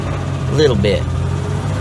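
The engine of a Ford Ranger, started for the first time in six years, runs with a steady low hum in second gear, and a faint rattle could sit in it. A short burst of talk cuts in over it partway through.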